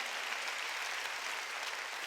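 A church congregation at a Sunday worship service claps steadily and densely throughout the short moment. The sound is a continuous wash of many hands with no pauses.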